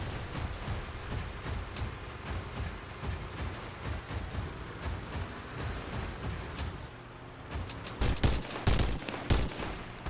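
Video game gunfire from a walker: rapid bursts of shots that crackle over a busy battle din and grow louder and denser near the end.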